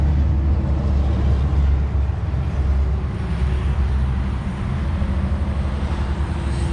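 A 2020-2021 Indian Chieftain Limited motorcycle on the move, a steady low rumble with constant wind and road noise throughout, with no clear individual engine events.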